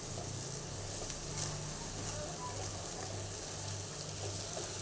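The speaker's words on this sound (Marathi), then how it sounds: "हे बघा हे अशा प्रकारे मसाला सगळा परतून घेतलेला आहे." Masala sautéing in hot oil for shipi amti gives a steady, soft sizzle and faint crackle that continues quietly without a break.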